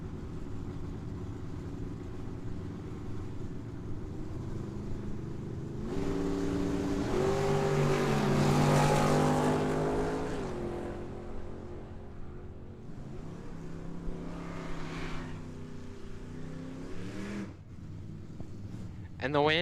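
Drag race cars launch down the strip at Tucson Dragway, a loud engine roar swelling and sweeping upward before fading, with a second rise later, under an announcer's ongoing commentary.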